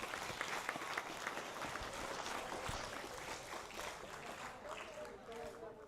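Audience of students clapping for a speaker during a school outreach assembly at a middle school, steady dense applause with crowd noise throughout.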